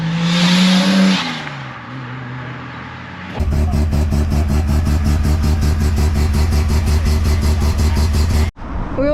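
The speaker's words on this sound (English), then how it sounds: "We have another GTS Skyline now pulling in" A Nissan Skyline GTS pulls in at a Japanese classic car show, its engine running steadily and loud up close with a pulsing rumble, after a quieter stretch of other engine noise, then cutting off abruptly near the end.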